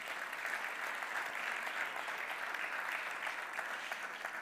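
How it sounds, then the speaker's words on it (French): Steady applause from an audience at an advertising and marketing awards festival, a dense continuous wash of clapping hands at even loudness for several seconds, with no voices heard over it. "on peut les applaudir"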